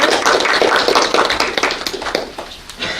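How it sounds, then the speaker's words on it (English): Audience applause for a contestant at a 4th–6th grade spelling bee, a dense burst of many hands clapping that fades somewhat toward the end. "let's give a round of applause to our person about that"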